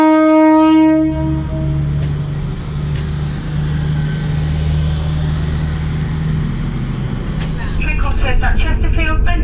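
Steady rumble of a passenger train coach in motion, with continuous low hum and rattling carriage noise throughout; a brief horn-like tone opens the moment and a faint voice or announcement sits beneath the running noise.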